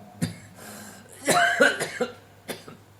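A person coughs several times during a radio broadcast, a sharp hack followed by a cluster of rougher, throaty coughs, close to the microphone against a faint background hum.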